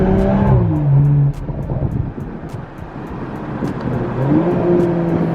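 A BMW M340i accelerating on the road, heard from inside: the engine note climbs through gears with a brief dip between shifts, loud and close, with wind noise over it.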